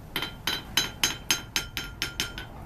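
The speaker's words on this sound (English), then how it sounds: "So this hammer is what they call a rounding hammer." A blacksmith's rounding hammer strikes hot metal during a pioneer heritage house demonstration, nine evenly spaced, sharp ringing blows that land about every quarter second.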